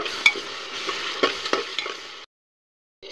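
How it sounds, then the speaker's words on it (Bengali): Cumin, ginger and garlic paste stirred in a hot pan sizzles steadily up close, with sharp utensil scrapes and taps, then cuts to silence before resuming briefly at the end. "এর ভিতরে আমি আবার একটু নেড়ে চেড়ে নেব।"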